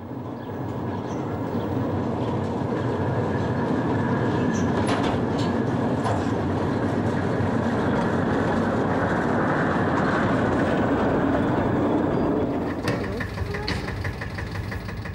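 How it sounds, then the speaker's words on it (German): A 1957 Siemens 8 hp battery locomotive hauls a train of tipper wagons on a narrow-gauge field railway at a museum, a loud continuous rumble and rattle of wheels and wagons rolling steadily past nearby. "Vorgespannt ist eine Akkulok, 8 PS stark, 1957 von Siemens gebaut."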